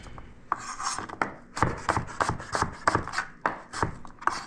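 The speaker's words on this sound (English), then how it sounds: "And then these sides of the apple I'll slice up." A knife slices through the sides of an apple on a cutting board, producing a series of close, crisp cutting and scraping strokes in an uneven rhythm.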